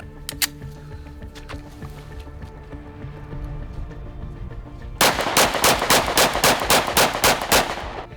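A 5.7 pistol is fired in a quick string of about ten loud, closely spaced gunshots with a steady rhythm. A few fainter distant shots and quiet range noise come before it.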